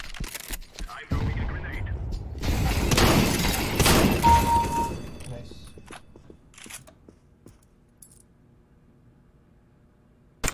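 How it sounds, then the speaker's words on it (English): A grenade goes off in CS:GO, a loud shattering blast with breaking debris that swells over several seconds and then fades, followed by faint scattered footsteps and a sharp pop at the very end. "Wait, grenade in here."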